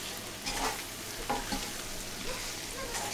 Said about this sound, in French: je mélange mes pommes de terre